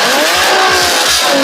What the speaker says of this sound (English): The 370Z is a powerful rear-wheel drive sports car famous for its VQ roar